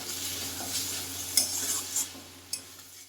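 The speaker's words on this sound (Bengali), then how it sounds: "এক চামচ ঘি দিয়ে একটু ভালো করে নাড়িয়ে দিতে হবে" A spoon stirs banana flower and prawn curry with ghee in a pan, making soft scraping strokes over a quiet sizzle, with a few sharp clinks of metal against the pan.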